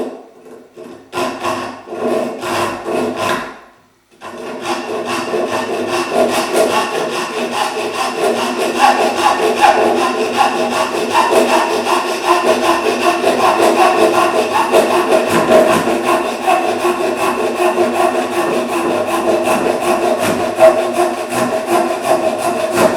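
A hand saw cuts a rough slot in wood for a Windsor stool wedge, with a few short strokes, a brief pause, then a long run of steady, loud rhythmic rasping strokes close by.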